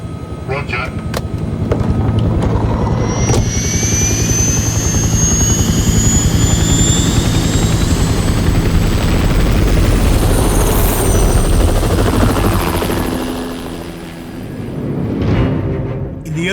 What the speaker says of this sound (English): 3 SeaKing helicopters lifted off the British aircraft carrier HMS Hermes in complete darkness